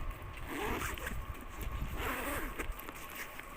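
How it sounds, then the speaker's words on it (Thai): A zipper being opened on a second-hand Coach-style designer handbag with a brown strap, a continuous close raspy scraping run of about three seconds with no talking. "เดี๋ยวเปิดซิปมานะคะ"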